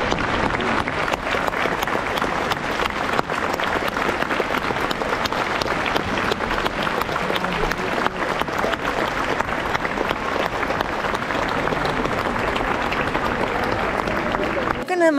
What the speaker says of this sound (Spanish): Empezaron a aplaudir hasta después de que pasó la reina